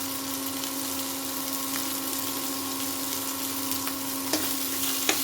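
Green chillies, cashews and chopped tomato fry gently in a pan for kadhai paneer, giving a soft continuous sizzle over a steady tonal hum, with a couple of faint clicks near the end.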